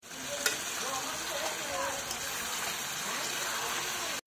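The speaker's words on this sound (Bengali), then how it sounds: "নাড়তেই থাকবো যতক্ষণ পর্যন্ত মশলা থেকে তেল ছেড়ে আসে।" Spice paste of ginger, turmeric, chili powder, Kashmiri chili, coriander and cumin fries in oil for a chicken curry, hissing and bubbling continuously up close while being stirred, with a faint voice underneath.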